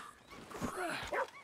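American Foxhound dogs in the video game Red Dead Redemption 2 give faint, brief yelping barks, a couple of short calls at a distance over quiet game ambience.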